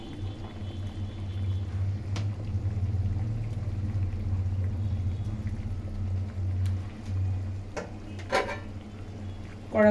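A spoon stirs sardine fish curry in a pot, giving a few light metallic clinks and scrapes over a low, steady simmering hum, with a sharper clatter near the end.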